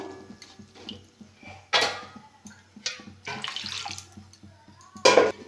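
Water is poured into a wok on a gas stove to boil papaya, in several short splashing pours, the loudest near the end, with faint clinks of utensils between them.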